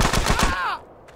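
Rapid burst of about five gunshots in GTA San Andreas Remastered, loud and close, followed by a short ringing tail and a quiet fade.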